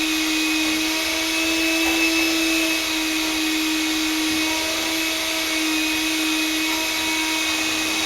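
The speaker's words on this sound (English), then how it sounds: "I'm going to mix this one more time on low" An electric mixer whipping Crisco shortening on low speed, a steady even whirring motor hum holding the same pitch throughout, close and unbroken.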